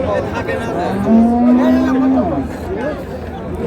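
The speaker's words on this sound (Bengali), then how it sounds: "গাভী বাছুর আমরা দেখছিলাম এখানে।" Cows and calves at a cattle market in Raniganj, Dinajpur, where improved-breed dairy cows are sold; one drawn-out moo of about a second rises over a steady murmur of crowd noise.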